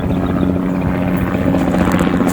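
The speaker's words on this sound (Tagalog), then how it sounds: "may helicopter na sa bataan. Medyo maingay mga kamag-anak." A helicopter passes over a corn field in Bataan, its loud, steady rotor and engine drone filling the air with no talking.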